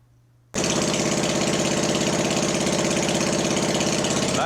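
A loud Massey Ferguson (Simplicity) riding mower engine roars to life after a brief quiet moment, then runs steadily with a rough, throbbing idle and a buzzing, knocking rhythm.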